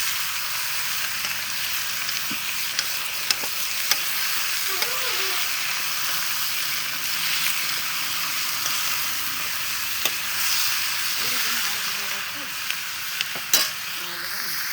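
Local village chicken meat fries over an open fire in a steady, continuous sizzle that lasts throughout, with a few faint clinks and brief bits of quiet speech.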